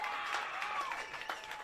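Crowd at a youth girls rugby sevens match applauding the Sunny Coast team, a brief, steady patter of clapping at moderate distance.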